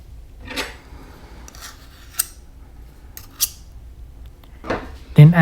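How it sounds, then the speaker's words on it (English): Instant pancit canton noodles being stirred together with peanut butter, a few scraping and clinking strokes of a utensil against a dish, close and fairly loud with quiet gaps between them. "we're gonna mix our instant pancit canton, but we're gonna put additional ingredients"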